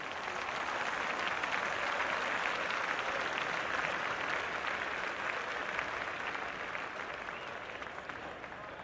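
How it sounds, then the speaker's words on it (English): A cricket stadium crowd in a cricket video game's one-day match fills the scene with continuous, dense applause and cheering, loud and sustained throughout. "It's the most enthusiastic crowd you could ever see right now. There's a buzz, a real buzz coming from the stands."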